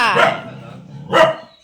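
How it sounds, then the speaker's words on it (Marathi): A village dog barks twice in a rural home setting, sharp near barks about a second apart with a quiet gap between them. "इकडे डॉगी आहे, तो भुकतोय आमच्यावर"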